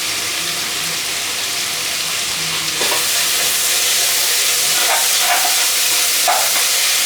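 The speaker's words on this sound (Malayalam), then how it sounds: "എന്നിട്ട് നല്ലപോലെ ഒന്ന് വഴറ്റിയെടുക്കാം." Kerala-style chicken curry masala fries in a pressure cooker pan with a loud, constant sizzle, joined partway through by scraping stirs and brief clinks of the spoon.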